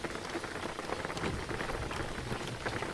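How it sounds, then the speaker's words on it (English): Rain pattering steadily in the driving game Jalopy, a dense, even hiss of drops on a surface that runs continuously without pause and without any voices. "hey, the rain washed it off."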